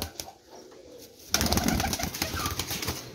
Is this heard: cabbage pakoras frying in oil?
no